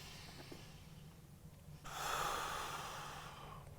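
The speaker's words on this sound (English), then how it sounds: "Let's go one more breath here." During a yoga hip-mobility stretch, a person draws one long, deep, close breath that swells and holds after a quiet start.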